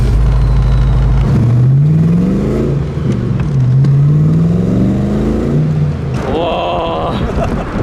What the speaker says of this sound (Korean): 배기음하고 퍼포먼스를 느끼는 거죠.